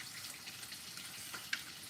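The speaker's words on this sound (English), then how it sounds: "You guys can hear the fish frying." Fish for Jamaican brown stew fries in a pan with a quiet, steady sizzle and crackle, carrying on evenly throughout with a small pop near the end.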